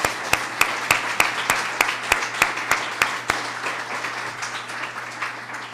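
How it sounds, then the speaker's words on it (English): Applause for teachers at a Boston gathering, a crowd's steady clapping with a few louder, sharper claps standing out at a regular pace, gradually thinning toward the end. "How about we give a round of applause to all your teachers."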